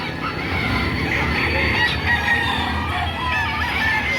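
Chickens and roosters crow and cluck at the Padre Garcia Livestock Auction Market in Batangas at 5:30 in the morning, a dense, steady din of many overlapping birds filling the space with no talking.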